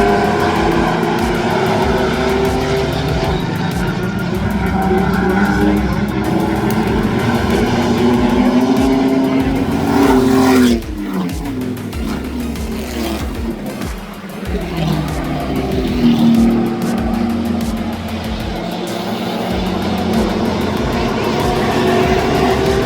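Nissan Altima race cars racing on a track, engines roaring loudly and continuously as they pass, with a sharp dip and swell mid-clip as one car goes by, under a race commentator's voice.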